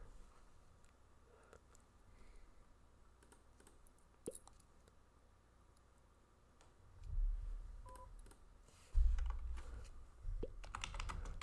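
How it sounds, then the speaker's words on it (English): Phone making noise with a series of short clicks and tones, irregular and fairly faint, then a couple of louder low thumps near the end, no speech. "why is my phone making noise?"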